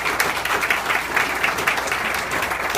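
Steady applause from a crowd honoring a newly introduced alderwoman of the 20th Ward, a dense, continuous clatter of many hands at close range without a break.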